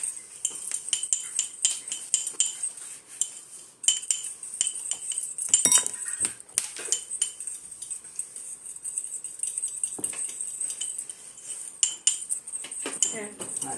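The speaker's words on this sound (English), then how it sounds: "we're just gonna mix that up well" Salmon Wellington ingredients being mixed in a bowl with a metal utensil, steady rapid clinking and scraping close by, with brief pauses and no talking.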